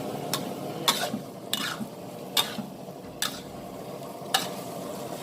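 Squid and holy basil are stir-fried in a pan: steady sizzling broken by a string of sharp metal scrapes and clanks as the spatula tosses them, close and moderately loud with no talking.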